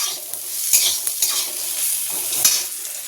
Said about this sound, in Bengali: উচ্ছে ভাজা কি তেতো তেতো গন্ধ থাকছে বাবা